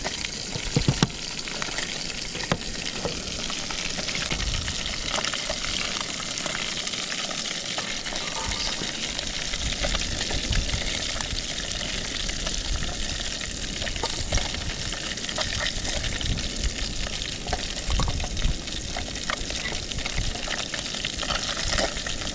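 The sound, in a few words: chopped potatoes frying after fish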